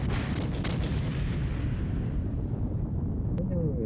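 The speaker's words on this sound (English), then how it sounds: "Khan, sonar, explosion bearing 290." Torpedo detonation in the submarine game 688(I) Hunter/Killer, a dense rumbling blast that fills the sound and slowly decays over a few seconds, with brief faint clicks near the end.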